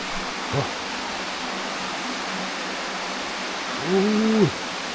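Pha Li waterfall in Thailand flows as a steady, moderate hiss of falling water, with a brief low vocal sound near the start and a longer animal-like call toward the end.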